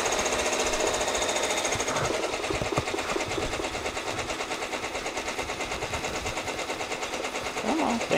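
An embroidery machine stitches designs onto duffle bags, running steadily and loudly throughout as a fast, even mechanical clatter of needle strikes with a constant hum underneath.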